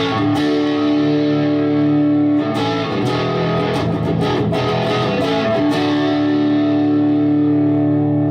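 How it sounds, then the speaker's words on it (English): Electric guitar played through a Toth Blues Cube amp with distortion, chorus and delay engaged rings out in sustained, thick chords with repeated attacks and shimmering echo tails, loud and upfront with no talking. "That was going through the chorus, the distortion, and the delay."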